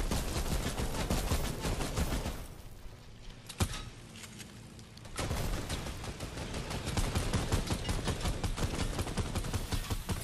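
Rapid bursts of automatic gunfire in Fortnite, loud and close, with dense rattling volleys, a brief lull broken by one sharp shot, then heavy firing resumes.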